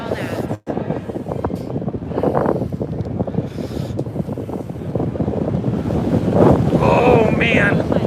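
Wind buffets a microphone outdoors near cruise ships on the water, a loud, continuous rushing roar that swells toward the end, with muffled voices faintly underneath.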